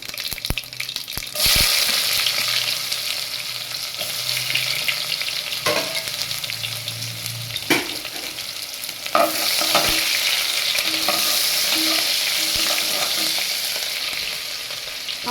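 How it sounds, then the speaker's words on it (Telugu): Onions fry in hot oil for tomato dal, a steady close sizzle broken by scraping stirs and clinks of a spoon against the pan, with bursts of louder crackle and no talking. "ఆనియన్ అనేది బాగా వేగాలండి, గోల్డెన్ కలర్ రావాలి ఆనియన్ అనేది"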